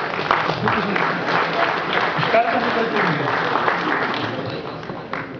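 Men in a hall at a Lithuanian Centre Party Valentine's Day gathering give sustained clapping of a moderate crowd for the whole stretch, with a voice talking over the applause.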